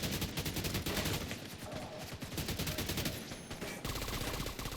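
Rapid gunfire from a hard-recoiling weapon in The Division 2, a loud, dense stream of shots that runs nearly unbroken with a brief dip in the middle, alone with no talk.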